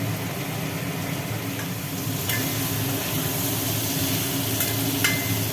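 Steady, close sizzling of potatoes and vegetable stems frying in a hot pan, continuous throughout with a few faint clicks of stirring.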